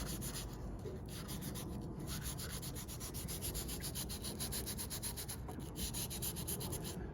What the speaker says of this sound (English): Again, just removing any scratches or marks from the previous sanding.